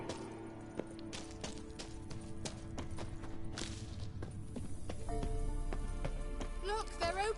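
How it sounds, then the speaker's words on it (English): Kelpie, Geralt's horse in The Witcher video game, clip-clops along with steady hoof beats, mixed with game ambience and some tonal music. "Kelpie. Another horse."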